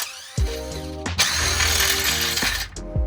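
A power ratchet whirs in several short bursts, loosening bolts from the power plant frame of a car, close and loud with pauses between the runs.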